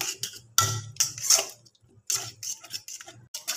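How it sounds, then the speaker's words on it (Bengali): A spoon stirs chopped tomatoes and turmeric in a pan for Amritsari paneer bhurji, with several short clinks and scrapes in irregular bursts separated by brief quiet gaps. "হলুদটা দিয়ে ভালোভাবে নাড়াচাড়া করে নেব।"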